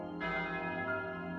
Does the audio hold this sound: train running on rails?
no